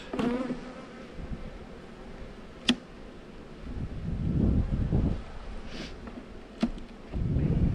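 Bees buzzing close by in a low droning hum that swells and fades while frames are handled in a five-frame queen cell builder hive, with a couple of sharp clicks and some handling noise.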